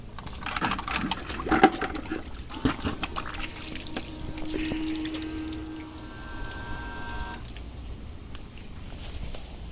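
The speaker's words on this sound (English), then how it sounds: "I'm gonna drop it in this bucket of water and let it pump it out." A small 12-volt solar-powered bilge pump, wired to a battery, pumps water out of a bucket, giving a gurgling, sloshing liquid rush with a faint motor whine before the flow cuts off near the end.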